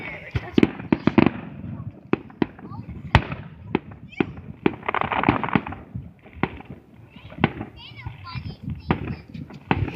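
Fireworks explode in a backyard-style display, a rapid run of sharp bangs and pops of varying loudness with crackling bursts between them, while children's voices chatter and exclaim throughout.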